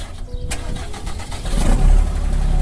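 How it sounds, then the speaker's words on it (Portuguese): A truck's engine cranks with a sharp burst, then catches and settles into a deep, rising rumble, loud and close, with no talk over it. "Liga o carro aí, pai."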